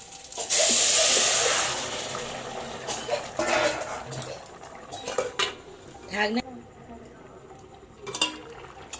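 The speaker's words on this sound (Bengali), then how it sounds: "পাঁচ ফোড়ন আর কাঁচা লঙ্কা একসাথে ভাজা হয়ে গেছে। এবার আমি ঝোলটা ঢেলে দেবো।" Curry broth poured into a pan of fried five-spice and green chillies while cooking katla fish curry, giving a loud, steady sizzling hiss that swells at once and then fades into softer crackling, with scattered clinks of utensils on the pan.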